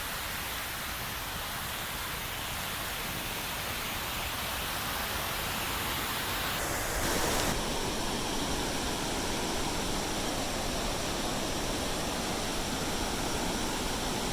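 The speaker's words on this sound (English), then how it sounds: "approach the end of the Kentucky Falls Trail and the two waterfalls there" Kentucky Falls in Oregon pours steadily, a dense, even broadband roar of falling water that stays constant and fairly loud throughout, with no voices.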